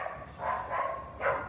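A white dog gives a few short, muffled barks or yips in quick succession outdoors near a veranda, moderately close with no talking.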